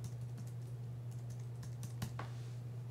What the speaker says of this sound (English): then you just type in your email